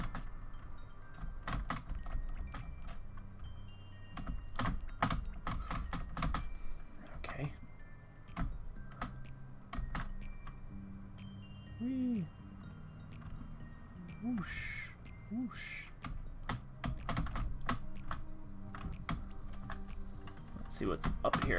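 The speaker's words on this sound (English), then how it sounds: "I hope you're not just hearing me spamming the keyboard." Rapid, irregular clicking of computer keys while playing the rhythm platformer game Neon Beats runs throughout, with a few bird calls and a faint voice in the background.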